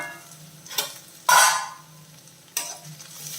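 Bitter gourd sautéing in a pan: a quiet background sizzle broken by three distinct stirring scrapes, the middle one loudest, with no talking.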